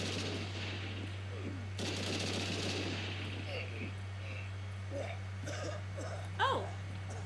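Gunfire from enemies shooting each other in Shadow of the Tomb Raider, a sustained crackle of shots under a steady low game hum, with short bursts rising near the end.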